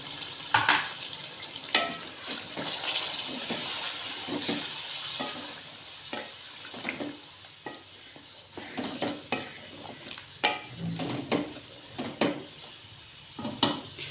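Tomato paste made from fresh tomatoes and a little water goes into a pan of chicken karahi, giving a soft sizzle and frying hiss broken by scattered clinks and scrapes of a utensil against the pan.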